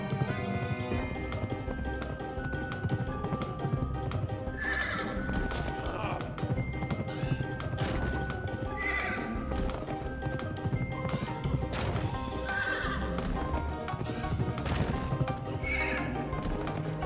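Horse neighs and whinnies repeat over steady galloping hoofbeats and a music-like background in the video game Pumpkin Jack, with occasional voices.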